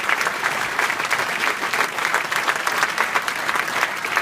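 Sustained applause from a dinner crowd at a football foundation awards evening, steady clapping throughout, moderately distant and filling the room.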